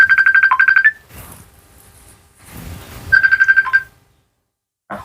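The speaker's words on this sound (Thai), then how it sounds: "มีสายเข้าพี่น้องเนาะ" A phone ringtone for an incoming call plays loud and close in two bursts of rapid repeated electronic beeps, separated by a pause filled with low background rustle, and a brief third beep starts at the end.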